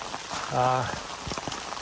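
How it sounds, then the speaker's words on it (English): Steady rain hisses and patters on an umbrella during a soggy hike on the Ozark Trail. The wash is close and continuous, with a brief voice cutting in partway through. "it's been raining for a couple hours now and it's kind of miserable"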